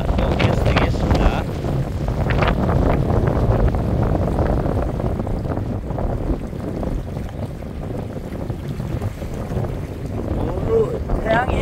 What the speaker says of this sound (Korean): 바람이 많이 불고 있습니다.